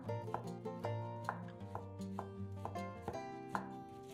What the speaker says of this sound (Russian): а затем нарезаем их небольшими кусочками